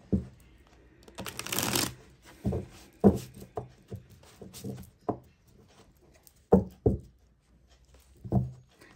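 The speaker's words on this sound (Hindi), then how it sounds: "इसे मैं दूसरे डेक से निकालने वाली हूँ" Tarot cards are shuffled in a burst of riffling, then single cards are drawn and laid down from a second deck with soft taps and knocks at uneven intervals, close and quiet, with no talking.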